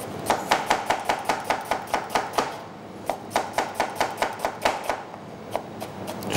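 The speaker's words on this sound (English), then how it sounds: "Get a knife and just slice away." A knife slices thinly through a red onion on a board, with quick rhythmic chops in two bursts separated by a brief pause, close and crisp with no talking.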